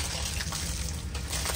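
Water sprays and splashes steadily across a rooftop terrace, a dense continuous gush with no pauses and no voices.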